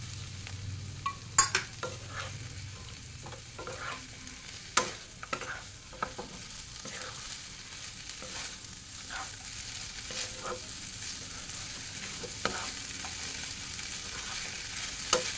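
Shukto curry stirred in a pan after Sunrise shukto masala mixed with water is added: scattered scrapes and clinks of a spoon over a soft, steady sizzle, fairly quiet, with no talking.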